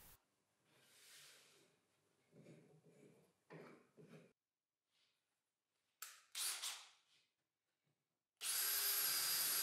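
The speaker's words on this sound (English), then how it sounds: "drilled one to use as reference to drill the rest" Intermittent bursts of a power drill boring into wood, with short whirring spurts separated by pauses, then a loud sustained drilling at the end.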